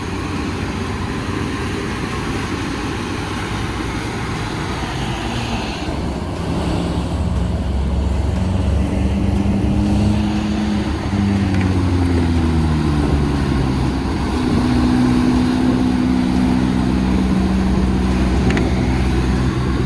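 An ALS bus, a Mercedes-Benz 1626, labours along the steep, winding Sitinjau Lauik mountain road in West Sumatra, its engine droning loud and steady throughout with rising and falling gear tones over road noise, no talking.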